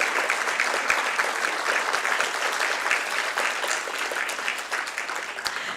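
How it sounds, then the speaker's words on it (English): A large audience at a violin arangetram claps for the gurus in a full, continuous round of applause, close and even, with no talk over it. "Please give a big round of applause for both our gurus here"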